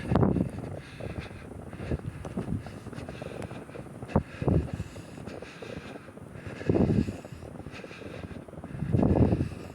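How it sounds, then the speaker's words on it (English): Strong blizzard wind gusts in a heavy night snowstorm roar and buffet the microphone in uneven surges, swelling loudly several times over a constant low rumble. "70-mile-an-hour wind gusts."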